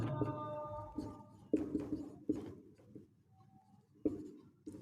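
Chalk or marker writing on a board during a maths lesson: a series of scratchy strokes in irregular bursts, close and moderately loud, with faint room noise between strokes and no clear speech.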